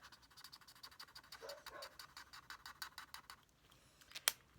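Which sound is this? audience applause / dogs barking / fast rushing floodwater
dogs barking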